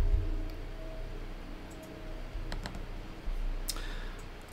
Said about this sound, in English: We start by double-clicking on the blue box labeled System on the source coordinate side.